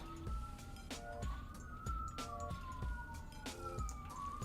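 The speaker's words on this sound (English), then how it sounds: "I hear a lot of police sirens right now" Police sirens wail outside at a distance, rising and falling wails overlapping with rhythmic tonal bursts, faint but continuous throughout.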